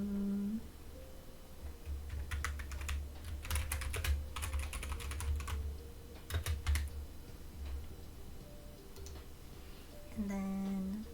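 Bursts of typing on a computer keyboard, uneven clatters of keystrokes coming in clusters over a steady low hum, fairly close, with short spoken voice at the start and end.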